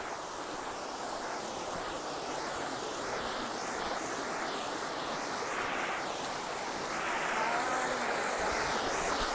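Steady broadband rush of flowing stream water along a trail, continuous and fairly close, swelling slightly louder toward the end, with no voices over it.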